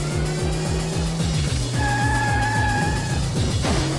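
A racing car engine in the arcade game Ridge Racer or Daytona USA revs and shifts gears in rapid, repeated pulses, loud and close, with a tonal hum layered over it.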